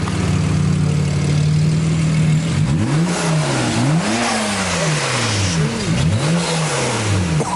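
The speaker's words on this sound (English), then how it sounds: "we're gonna let it warm up and then we're gonna get some revs in it, some rev clips" A BMW 335i engine with newly installed upgraded turbos idles steadily while warming up, then revs up and down repeatedly in quick bursts, loud and close, with no talking.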